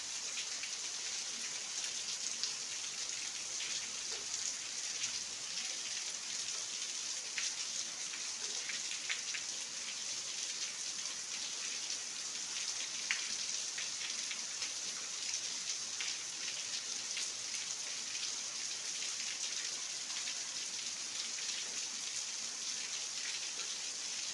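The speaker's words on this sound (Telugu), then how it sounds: "కురిసేది కొంచెమైనా నీట్గా కురిసింది వర్షం, ఒక చక్కని వర్షం." Gentle, steady rain falls around a Shiva temple, an even hiss of drops with faint scattered taps and no voices.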